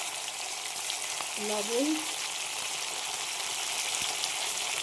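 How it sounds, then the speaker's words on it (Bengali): Pointed gourd (potol) fries lightly in oil with a steady, even hiss of sizzling throughout. A brief voice is heard speaking once over the frying. "পটলগুলো ভেজে নিচ্ছি হালকা করে"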